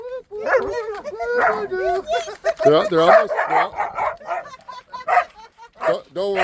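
Dogs at a desert nomad camp near Quartzsite bark, yip and whimper in short bursts, mixed in with people talking and coaxing nearby.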